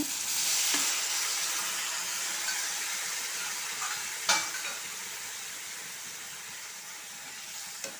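Fried fish being stirred into masala in a pan for Kerala-style fish pickle, a steady close sizzle and hiss with occasional scraping taps of the spoon, and no talking.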